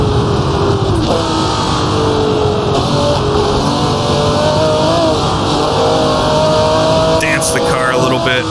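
Race car engine at Fuji Speedway in Assetto Corsa, loud and close, revving and dropping through a downshift with gear-change pitch swoops while someone talks over it throughout.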